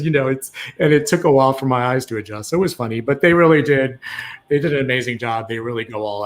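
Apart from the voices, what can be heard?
None of the usual background noises is heard.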